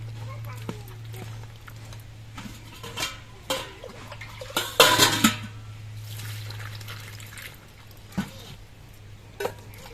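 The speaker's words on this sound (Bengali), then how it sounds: "এবার সবজিগুলো ধুয়ে পরিষ্কার করে নিচ্ছি" Cut vegetables, including halved drumstick stalks, being washed in water, with sloshing, dribbling splashes and clattering of pieces against a pot, over a low steady hum, and a voice talking at times.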